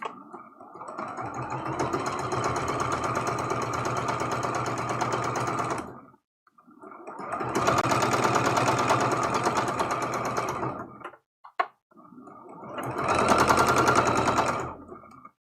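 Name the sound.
sewing machine sewing a quilt seam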